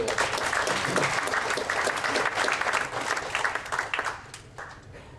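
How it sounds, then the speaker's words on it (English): Audience applause at a Tableau user group meeting, a dense, sustained burst of many hands clapping in a room that tapers off toward the end. "let's give a quick round of applause"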